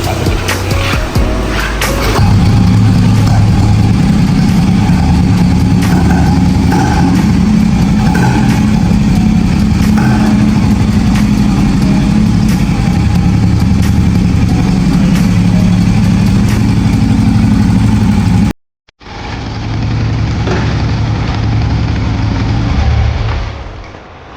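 A 1988 Royal Enfield Bullet motorcycle engine fires up and settles into a loud, steady idle close by, its thumping low rumble running continuously, briefly cutting out and then resuming at a similar level.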